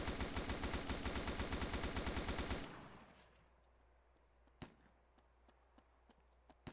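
Sniper gunfire in a video game, a rapid even burst of shots hitting a vehicle that stops abruptly, followed by a few isolated sharp cracks.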